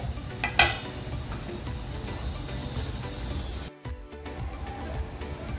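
A lid goes onto a pan of raw mango cooking on low heat, with one clear metallic clink near the start over a steady hiss of the stove.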